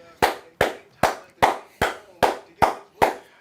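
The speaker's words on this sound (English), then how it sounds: "let me clap it up to him" Eight sharp hand claps in a slow, even rhythm, close and loud, each with a short ringing decay.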